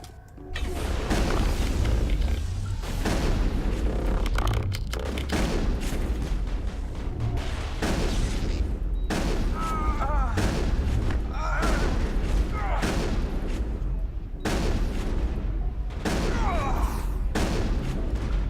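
Gunfire rattles through a shootout in the video game Mass Effect: loud, repeated bursts and booms that fill the whole stretch, with short pauses between volleys, and voices break in at times.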